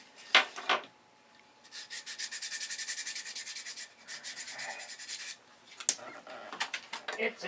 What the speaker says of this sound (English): It's a stone on a Dremel tool.